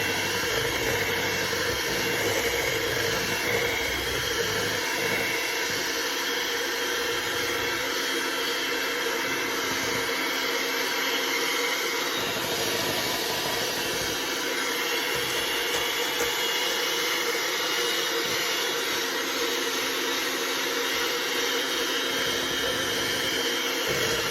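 An electric mixer whirs steadily as flour is beaten into a summer squash pound cake batter, a loud, continuous close hum lasting throughout with no talking.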